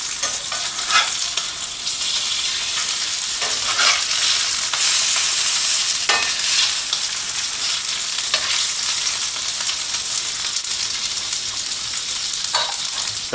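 Miso maple glazed salmon fries in a pan with a steady, close sizzle and crackle, broken by occasional stirring and scraping sounds, and no one talks.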